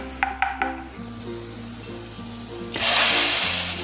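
Browned fried onions go into a pot of beef nalli nihari. After a few soft clinks under a steady hum, a loud, hissing sizzle bursts up near the end and holds for a moment.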